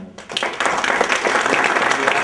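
Applause from the audience at a water district board of directors swearing-in ceremony, starting after a brief quiet moment and continuing as dense, steady clapping at fairly close range.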